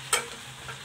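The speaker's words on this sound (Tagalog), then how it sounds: "Haluin lang natin ng konti." Pork binagoongan being stirred as it simmers in a pan, a single quick scrape of the utensil over a soft, ongoing bubbling sizzle.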